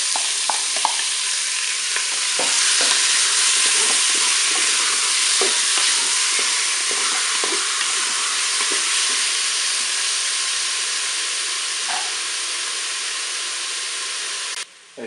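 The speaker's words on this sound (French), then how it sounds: "je vais pouvoir faire revenir ma viande. Je vais ajouter mes oignons," Beef pieces and onion pieces fry in a Cookeo multicooker, giving a loud, steady sizzle that holds throughout, broken by small crackles and a few faint clicks of stirring.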